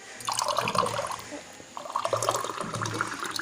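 Water runs from a tap in two splashing bursts, a short one and then a longer one, separated by a brief lull, close and moderately loud with no talking.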